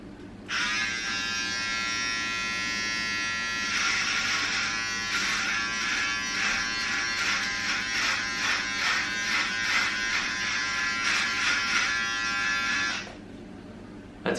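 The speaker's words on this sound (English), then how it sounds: "let's start shaving." An electric shaver runs through a beard with a loud, steady close-up buzz, its pitch wavering and rasping as it cuts hair, lasting about twelve seconds before switching off.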